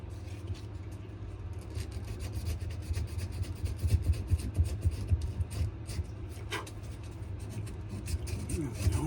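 A knife handle is sanded by hand in steady, rasping strokes over a low background hum, the scraping rhythmic and close, swelling slightly in the middle, with light voices faintly present.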